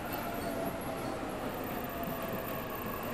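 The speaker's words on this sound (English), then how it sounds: "that's my train" Steady rumbling train noise from the video game 13 Sentinels, a continuous broadband roar like a carriage rolling along rails, moderately loud and unbroken throughout with no talk.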